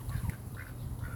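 A pair of ducks quacks in short, close, loud bursts outdoors on a rainy day, with a steady wash of rain beneath.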